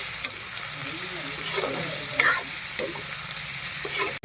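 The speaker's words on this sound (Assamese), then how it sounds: "এতিয়া মাংসটো ধুনীয়াকৈ ভাজি আছোঁ মছলা পাতি দি।" Pork fries with spices in a pan, a steady close sizzle broken by stirring scrapes and occasional sharp pops, with no talking.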